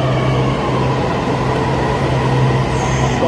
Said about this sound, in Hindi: तो ये है मेट्रो ट्रेन, तो अब इसके अंदर बैठेंगे